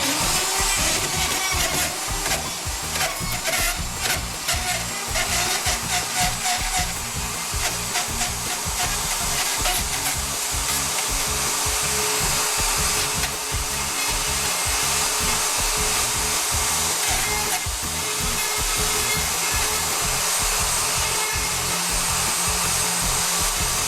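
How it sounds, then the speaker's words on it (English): A Ryobi router cuts a door hinge recess in wood, giving a loud, steady, high-pitched motor whine with rough cutting noise that runs without a break. "So the router just goes right on top of here, and as soon as you hit the go button, it just goes."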